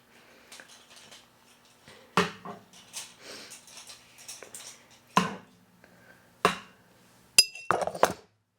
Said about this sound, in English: Close up the wine bottle, if I can.